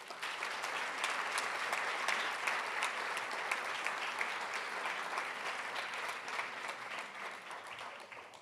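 An audience at an institute's honorary lecture applauds, a steady, fairly soft wash of many hands clapping that runs evenly and eases off toward the end.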